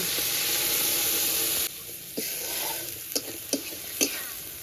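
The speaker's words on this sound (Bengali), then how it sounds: "মশলাটা হালকা করে তেলের সঙ্গে একটু কষিয়ে নেব।" Spice paste sautéing in hot oil for a fish curry, a loud steady sizzle that drops away partway through, followed by scattered stirring scrapes and sharp spatters.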